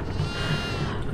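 Goat bleating inside the Devour horror game, a steady wavering bleat lasting about a second at moderate loudness, with no talk over it.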